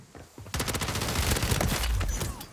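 Rapid gunfire from a cheating enemy player in a shooter video game erupts after a quiet half second, then continues as dense, loud, close overlapping bursts to the end.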